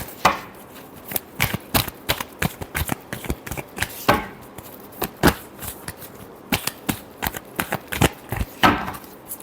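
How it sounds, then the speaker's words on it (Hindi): Tarot cards riffle and snap in quick, uneven bursts during a shuffle. The crisp flicks come close together and continue throughout. "last shuffle"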